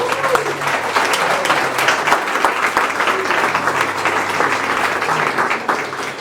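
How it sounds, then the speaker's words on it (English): Audience at a Python and AI talk applauds as the speaker is introduced, a steady, dense wash of many hands clapping that stays loud and even throughout, with faint voices underneath. "Big applause."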